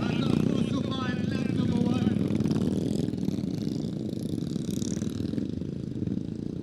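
Motorcycle engines droning and buzzing steadily at a distance, a continuous racing roar with a voice talking over it.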